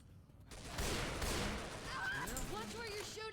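Gunfire in the zombie shooter Left 4 Dead 2 makes a dense, noisy burst of shots that fills the first half, then fades under a voice talking over the game.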